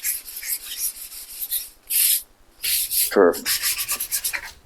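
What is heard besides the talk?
sanding a wooden countertop with the grain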